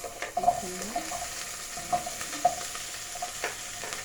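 Sliced onions frying in very hot oil give a moderate crackling sizzle, punctuated by light spoon clinks and tapping against the pan at irregular intervals, with no voices.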